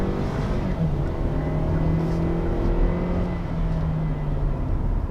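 A 2019 Kia Sportage LX all-wheel-drive SUV accelerating on a road test drive, its engine a steady droning hum with rising tonal whine heard from inside the cabin, continuous and fairly loud.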